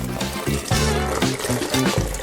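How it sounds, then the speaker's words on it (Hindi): Water poured to fill a small toy pool in a dollhouse, a continuous splashing trickle with gurgling bubbles running steadily for a couple of seconds. "पानी भर देती हूँ"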